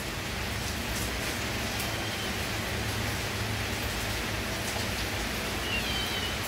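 Steady, dense patter of rain falling continuously, a broad hiss with no voices or breaks throughout.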